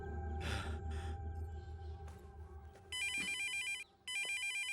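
A telephone rings in a Malayalam film scene from Lion: two loud, close bursts of electronic ringing with a short gap between them, following a stretch of low background rumble and scattered noises.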